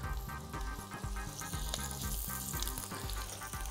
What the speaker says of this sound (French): on va mettre à chauffer un peu d'huile d'olive